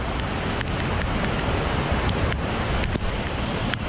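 Heavy rain pours down in the jungle near a rising river, a loud, steady, dense hiss with occasional soft knocks and no talking.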